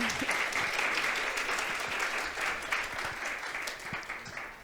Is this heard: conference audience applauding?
yes